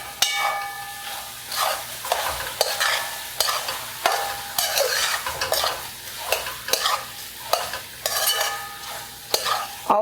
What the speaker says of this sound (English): I'm going to stir all of this for 2 minutes.